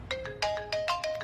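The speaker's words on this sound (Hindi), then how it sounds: "मैं सुबह से तुम्हारा फोन ट्राई कर रही हूँ" A mobile phone ringtone plays in a Bollywood film scene: a bright melodic ring of quick repeated tonal bursts, loud and close, with no voices over it.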